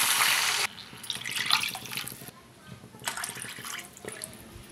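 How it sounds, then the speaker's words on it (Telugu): Water from a tap or jug poured into a cooking pan of sautéed vegetables, three cups for one cup of multigrain rava for upma; two close bursts of running, splashing water with brief pauses between. "ఇప్పుడు దీనిలో 1 కప్పు రవ్వకి 3 కప్పులు నీళ్లు పోసుకుంటున్నాను."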